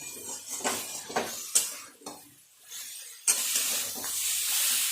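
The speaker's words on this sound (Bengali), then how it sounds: "খুব ভালো করে আবারও সমস্ত সবজির সাথে মশলাটাকে এইভাবে একটু কষিয়ে নিতে হবে।" Spices and coriander powder stir-fried with mixed vegetables in a pan, close spatula scrapes and clinks in an uneven rhythm over steady frying sizzle that swells louder toward the end.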